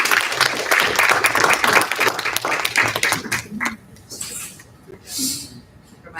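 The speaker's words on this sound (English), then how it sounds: "Let's have another round of applause for Dr." A conference audience applauds, dense clapping that holds steady for several seconds and then thins out into scattered claps and room noise, with some voices mixed in.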